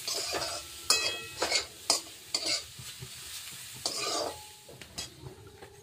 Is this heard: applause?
no